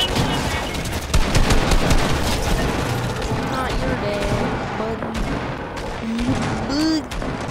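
A heavy shotgun fires in Fortnite, sending out several loud, sharp blasts in quick succession over dense, busy game noise that carries on throughout.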